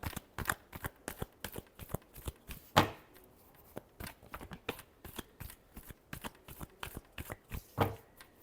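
Tarot cards being shuffled by hand, a rapid series of crisp riffling slaps and flicks in irregular bursts, close and clear with no talk.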